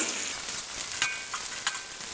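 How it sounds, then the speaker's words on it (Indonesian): Onion sautéing in a hot pan over high heat, a steady bright sizzle with a few louder crackles and stirring scrapes, close and alone without talking. "kita tumis yang pertama ini bawang bombay"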